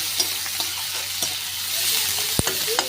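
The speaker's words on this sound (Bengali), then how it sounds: "পেঁয়াজের সাথে সাথে আলুটাও ভাজা হয়ে যাবে" Chopped onions and potatoes fry in a pan, giving a steady close sizzle. Stirring adds occasional scrapes and clicks, with one sharp knock near the end.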